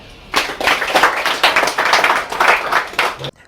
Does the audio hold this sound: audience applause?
yes